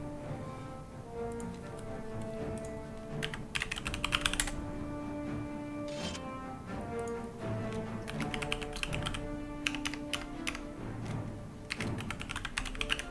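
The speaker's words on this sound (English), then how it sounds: "Typing everything into the good old scoreboard there as well." Rapid clicking on a computer keyboard in irregular bursts and pauses, close and clear, over a bed of steady tonal background music from a Guild Wars 2 PvP match.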